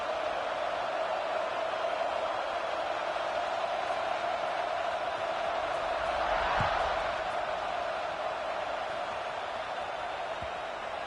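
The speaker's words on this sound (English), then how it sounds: "this crowd is feeling themselves after that last drive" Stadium crowd noise from a college football video game during a kickoff, a steady broad roar that swells briefly near the middle, held at a constant moderate level throughout.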